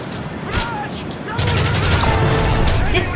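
Rapid gunfire from Modern Warfare 3's split-screen survival mode, with dense bursts of shots that thicken into sustained volleys over a steady low rumble of game sound.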